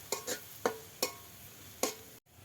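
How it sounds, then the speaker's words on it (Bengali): Spices stirred and tossed in a pan, giving a few separate scraping clacks spaced across a couple of seconds, close and moderately loud, with no talking. "সুন্দর মতন আমি কষাই নেব।"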